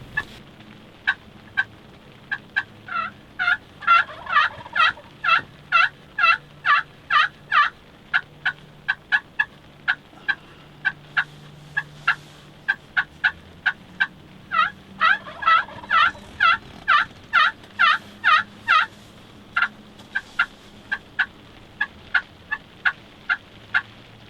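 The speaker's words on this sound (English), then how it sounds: "After hearing a few gobbles sounding off" Wild turkeys in New York gobble repeatedly in rapid rattling bursts, some near and some farther off, continuing in waves with no talking.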